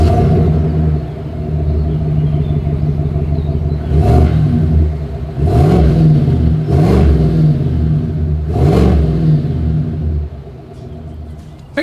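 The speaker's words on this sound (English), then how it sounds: "As always, here is that exhaust clip." A 2025 Chevrolet Tahoe full-size SUV idles with a deep, steady exhaust rumble, then revs sharply four times in spaced bursts before settling back to idle.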